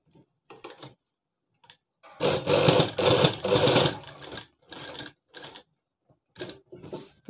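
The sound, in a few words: sewing machine stitching a shirt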